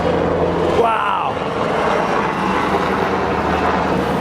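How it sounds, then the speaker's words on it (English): A helicopter passes overhead as a constant low rumbling drone, with a brief voice near the start. "That's a helicopter."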